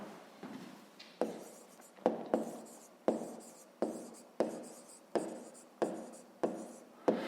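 Chalk or marker strokes on a board while a maths problem is worked out, a steady series of about ten sharp scratchy strokes each fading quickly, close and clear with no talking.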